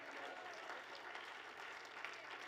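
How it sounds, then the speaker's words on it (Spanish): A congregation applauds during a church service, with a steady, fairly distant wash of clapping and no clear voices. "ese aplauso es para ti"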